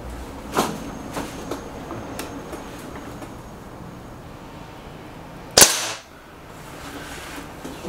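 A Remington Warhawk air rifle fires a single sharp, loud crack partway through, preceded by fainter ticks and clicks in a quiet outdoor setting with low background hum.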